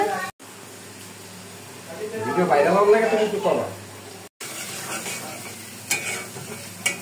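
Spices with turmeric and salt frying for crab curry, sizzling in a pan while a spoon stirs, the sizzle swelling midway with scraping and clinks, a few brief dropouts.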